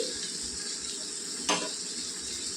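Beans and onions frying in oil with salt and turmeric are stirred in a pan, giving a steady close sizzle with one brief scraping stroke of the spoon midway.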